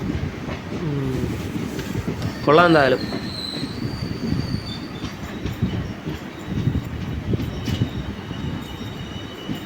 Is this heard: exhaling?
no